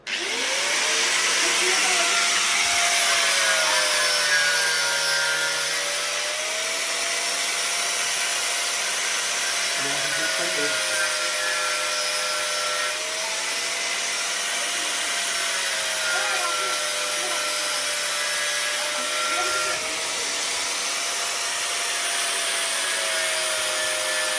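A loud, steady power-tool whine runs throughout, holding a high tone that dips and rises as the blade bites, like an angle grinder cutting.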